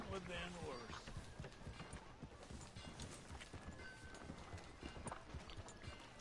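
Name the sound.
horse hooves in Red Dead Redemption 2 video game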